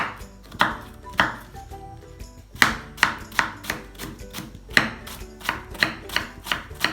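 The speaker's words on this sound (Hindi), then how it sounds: "ये बंद गोभी जाएगी इसमें, वो भी बारीक कटेंगे।" A knife strikes a board in brisk, uneven rhythmic taps while cabbage is cut finely for street-style chana chaat. The chopping is close and crisp, with no talk.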